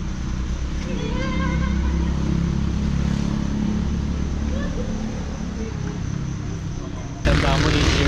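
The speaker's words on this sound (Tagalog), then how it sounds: "Ang ingay ng tricycle." A motor tricycle engine drones loudly nearby, a steady rough buzzing hum that holds throughout as it passes, with a brief louder burst at the end.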